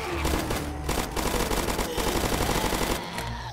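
Rapid automatic gunfire mows down zombies in the Roblox game Zombie Uprising, loud continuous bursts with short pauses between strings of shots.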